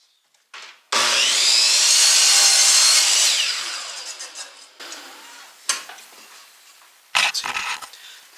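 A saw cuts a 45-degree miter in a wooden piece, one loud sustained cutting burst of about three seconds that fades out, followed by scattered scrapes and knocks of the wood being handled.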